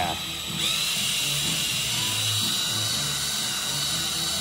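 An old electric drill whirs steadily at a high pitch, running continuously close by with a faint low rumble underneath, used on a 1929 Pontiac Big Six engine.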